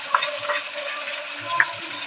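Poppy seed paste and white mustard paste fry in a pan in a village kitchen, giving a steady close sizzle with a few soft scraping knocks as it is stirred.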